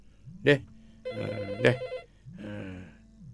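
A telephone rings during a call-in radio programme, giving bright repeated bursts of ringing that sit over a low steady tone.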